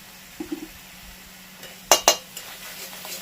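Utensil scraping and clinking in a pan as mustard eggplant and egg curry is stirred, with two sharp metallic knocks in quick succession amid soft intermittent scrapes.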